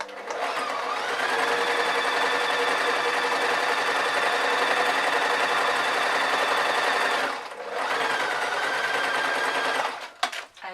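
A sewing machine runs in a long, steady stitching burst, loud and close, pauses briefly, then resumes for a short run before stopping with a couple of clunks.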